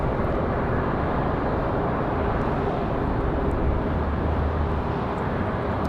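Frontier Airlines airliner in Puffin livery waiting at Raleigh-Durham airport before departing for Orlando, a steady, loud broadband jet engine roar holding evenly throughout with no talking.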